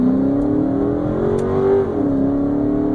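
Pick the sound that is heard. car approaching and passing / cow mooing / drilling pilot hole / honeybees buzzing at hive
car approaching and passing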